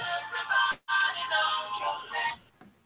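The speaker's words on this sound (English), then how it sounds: "Oh, that was the ringtone on your phone?" A phone ringtone playing the Cheers theme song, a steady melodic tone sounding for a couple of seconds with a short break, fairly close and clear.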